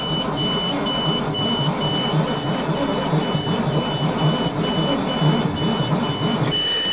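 A high, thin electronic low-air warning beep from a 2008 427 dump truck repeats at a steady pace over a low mechanical hum and rumbling background.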